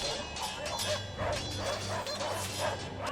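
Video game battle with dogs in the fray, repeated yips and barks amid clashing combat noise, mid-level and busy, with someone talking over it.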